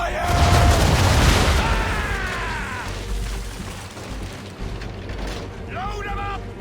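Ship cannons fire round shot in Assassin's Creed 3: a heavy booming volley rolls out at the start and rumbles away amid battle noise, while voices shout orders over the din.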